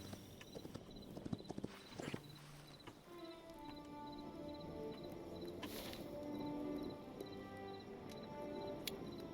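Steady clip-clop of horse hooves in the game Hytale plods along at an even pace near a swamp, with a soft ambient hum and faint chirping in the background.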